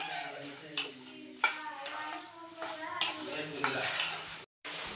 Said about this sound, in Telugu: ఇది బాగా మిక్స్ చేసుకోవాలి